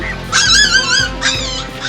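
Hungry puppies whimper and yip in high, wavering cries, two close whines one after another against a low background hum at a home where many dogs are kept.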